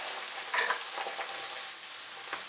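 Boiled eggs stir-fried in a pan with vinegar and soy sauce, a steady soft sizzle with a sharp scrape of the utensil near the start and light stirring noises after.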